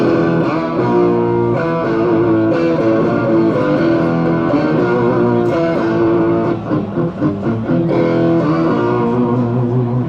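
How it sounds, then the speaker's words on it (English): Thick, heavily layered electric guitar chords with a deep sub-octave underneath, sustained and loud, playing alone without any talking. "let's start with the octaver, because that's a lot of fun."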